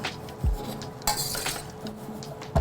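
Julienned red cabbage stirred in a pan with a utensil, giving soft scraping and a few light clinks against the metal, quiet and close, with a faint sizzle beneath.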